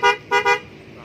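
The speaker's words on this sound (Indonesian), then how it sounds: "Ini juga pasang klakson, klakson Denso ya, klakson Denso waterproof." Three short, bright honks from a waterproof Denso horn fitted to a Yamaha Nmax motorcycle: one beep, a brief pause, then two quick beeps in a row, loud and close.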